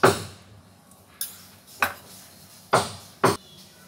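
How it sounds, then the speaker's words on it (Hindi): A pan goes onto a gas stove and two spoonfuls of ghee are added, heard as five sharp, bright metallic clinks and clanks spaced irregularly, close by against a quiet kitchen background. "गैस पर एक पैन चढ़ाए हैं, इसमें हम 2 चम्मच घी डाल देते हैं।"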